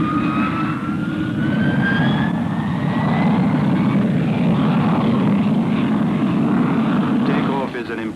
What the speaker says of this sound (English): Takeoff is an impressive demonstration of the new Avon engines.